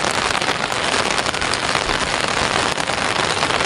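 Steady, loud rain pours down on a surface in Mansfield without a break, a dense even hiss with no voices over it.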